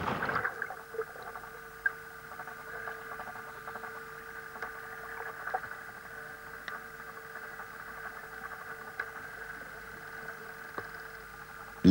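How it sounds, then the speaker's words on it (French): Motorboat engine running steadily on open Caribbean water during a fishing trip, a continuous hum with a few faint knocks and splashes, no voices. "Les barques à moteur ont remplacé les pirogues indiennes"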